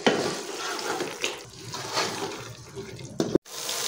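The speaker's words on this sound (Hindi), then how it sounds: "अब मैं इसे भूनूंगी।" Chicken liver (kaleji) sizzles as it is fried and stirred in a pan with masala, giving a steady close-up crackle with scraping, wet stirring and a brief break near the end.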